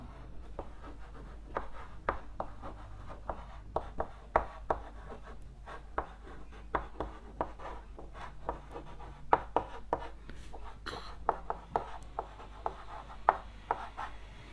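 Chalk or marker writing on a board during a physics lesson, a steady series of short scratchy taps and strokes at irregular intervals, fairly close and moderately quiet, with no talking over it.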